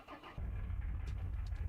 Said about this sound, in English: I mean, this car sounds really cool.